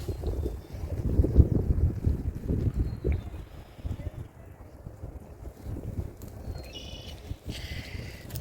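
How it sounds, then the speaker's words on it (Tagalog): Wind blows outdoors in the Canadian spring, a rumbling gusty buffeting on the microphone that is strongest early and then eases to a lower, steady roar, with faint voices in the background. "It's windy po."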